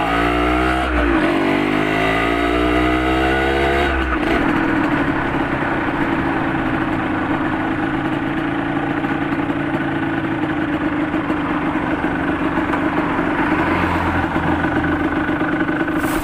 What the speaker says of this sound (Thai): ทำไมเหมือนคันเร่งมันเร่งได้ไม่สุดปอกนะครับ ทำให้ รอบเครื่องมันมาได้ไม่เต็มที่นะครับ